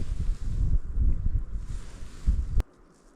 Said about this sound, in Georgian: კაი ზურგის ქარია.